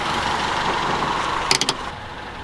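A Mazda Miata engine tries to start, a steady mechanical rumble broken near the middle by a few sharp, close bursts before it settles back to a lower hum.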